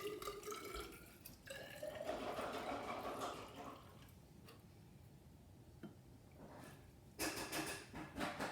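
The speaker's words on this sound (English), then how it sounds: "the next thing we're going to do is add 100 milliliters of water to" Water is poured into several lab containers for an oyster shell experiment: faint liquid streams and drips come in a few short pours separated by pauses, quiet and close.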